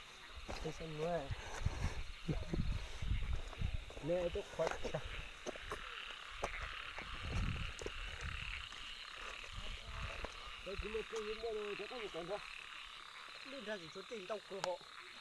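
Frogs croak in repeated rhythmic pulsing bursts across a village night scene, steady and fairly near, with insects buzzing faintly behind and occasional people talking.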